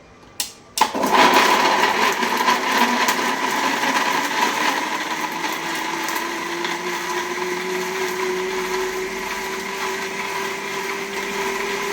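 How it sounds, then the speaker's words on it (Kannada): A kitchen mixer grinder grinds masala with a little turmeric. It starts with a sharp clunk, then whirs steadily and loudly at a constant pitch until the end. No one speaks. "ಈಗ ಮಿಕ್ಸಿ ಮಾಡ್ತೀನಿ."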